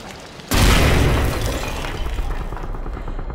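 Grenade blast blowing open a door in the horror game Amnesia: The Bunker, a sudden loud shattering boom with breaking debris that rolls on into a sustained rumble and fades slowly.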